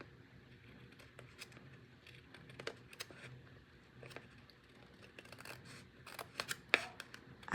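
Scissors trim the edge of a handmade junk journal paper signature: a quiet, irregular series of crisp snips and paper rustles, close up, growing louder and busier toward the end.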